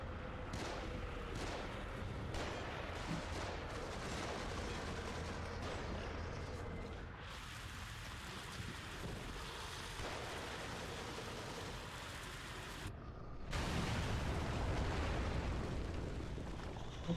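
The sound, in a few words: Magnum revolver gunshots in the video game The Evil Within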